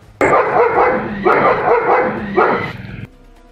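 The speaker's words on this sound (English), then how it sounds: "spots one of them on the other side and starts barking like crazy" A German shepherd guard dog barks in three loud, rapid bursts, each a flurry of harsh barks, close by with no other sounds around.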